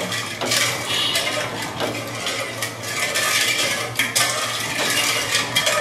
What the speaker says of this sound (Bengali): চিনি দিয়ে দুধটাকে ভালোভাবে জাল করে দিচ্ছি